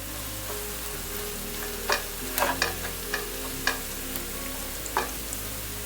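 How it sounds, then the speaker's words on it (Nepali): A low steady sizzle of ginger garlic paste frying in a pan, punctuated by several sharp scraping clicks of a spoon stirring. "अब यी अदुवा लसुनलाई पनि 1 मिनेट जस्तो भुट्दैछु"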